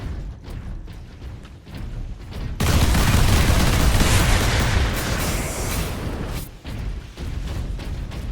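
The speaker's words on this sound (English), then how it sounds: "Sentry guns ahead." Sentry guns in Warhammer 40,000: Space Marine fire in a loud, sustained barrage of overlapping shots and booms, preceded and followed by sharper, spaced gunfire bursts.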